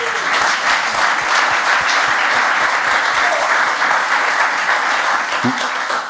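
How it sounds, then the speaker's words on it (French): A crowd applauds steadily, a dense, even wash of clapping from many hands that carries on throughout without letting up. "C'est un message d'amour et ça s'applaudit aussi"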